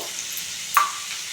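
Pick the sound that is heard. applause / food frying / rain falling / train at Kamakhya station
food frying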